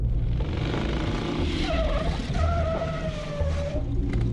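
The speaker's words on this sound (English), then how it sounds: "the ride the janitor gave me home that day, on the back of his motorcycle" Motorcycle ride effect in an audio play, a steady rumbling engine drone with rising and falling tonal whines, continuous and fairly loud with no voices.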